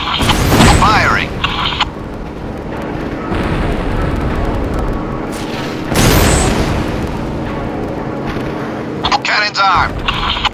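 A tank's main gun fires in the video game Syphon Filter: Logan's Shadow, loud booming blasts with crackling bursts over a rumbling mechanical background.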